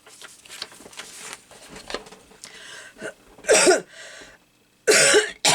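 A person coughs while working on a collage journal: scattered paper rustling and handling noises, then two loud, harsh coughs near the end, close to the microphone.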